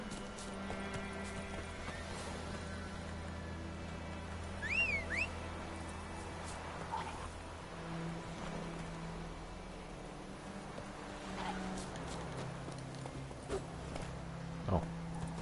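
Horse hooves clip-clopping in The Witcher 3 video game, a quiet irregular patter under game ambience with a couple of whistle-like tones and occasional brief sounds.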